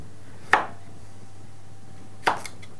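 Potimarron squash cut into cubes with a knife on a board, two crisp, close chops spaced about two seconds apart, each a sharp knock with a quick fade over a low background hum.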